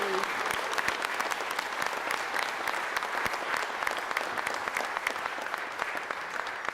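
At the 2016 Tertiary Teaching Excellence Awards, an audience gives award winners sustained, dense applause that holds at an even level throughout, a continuous wash of many hands with no talking over it.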